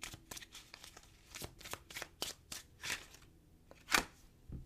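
Tarot cards being shuffled by hand in a series of quick riffling bursts, close and fairly quiet, ending with one sharper snap, with no talking.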